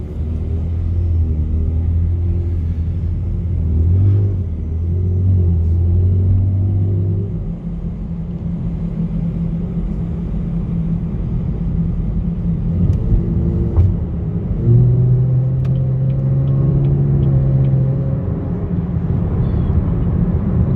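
Deep, steady engine rumble from a Chevrolet Camaro RS cruising slowly in traffic, heard from inside the car with a low drone that rises and falls with the throttle throughout.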